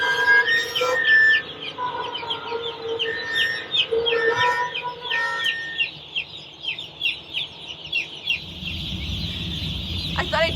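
A crowd of baby chicks in a chicken barn chirps continuously, with many high, overlapping peeps close by. A low hum rises near the end.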